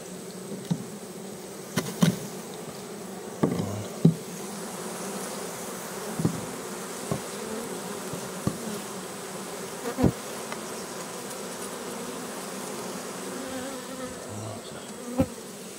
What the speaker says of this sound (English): Now there's several bees hanging around at the entrance of this thing